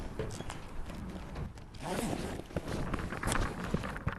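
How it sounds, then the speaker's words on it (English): A zipper is drawn closed on the sail cover of an RS Quest dinghy outdoors, a close, rasping pull in several bursts over steady wind and rustling fabric. "I'm going to zip up the bottom."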